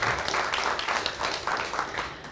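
An audience at a birthday reading event applauds two guests, with steady, dense clapping that fills the space evenly throughout.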